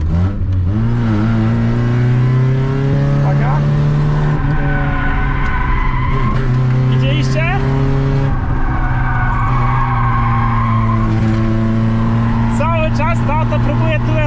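A Honda CRX Del Sol on road tyres is driven hard through corners, its engine loud and close with rising and falling revs and brief tyre squeal as the rear slides, under steady talking.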